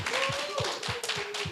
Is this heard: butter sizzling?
no